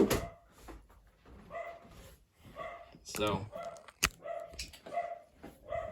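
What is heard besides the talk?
dog barking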